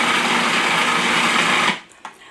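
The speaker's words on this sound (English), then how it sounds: "I'm going to put the blender on and I'm going to give it a blend." A kitchen blender whirs loudly and steadily as it purees an eggplant dip with tahini, then cuts off abruptly, leaving a few small clicks and knocks behind.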